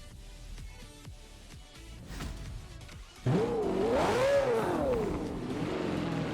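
A Ferrari 488 GTB engine in Forza Horizon 4 revs up sharply after a quieter stretch of clicks and faint engine noise, then rises and falls in pitch as the throttle is worked.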